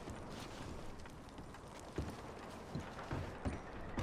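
Horses shift and step in Red Dead Redemption 2, soft irregular hoof clops and thuds coming through faintly under a steady windy outdoor bed.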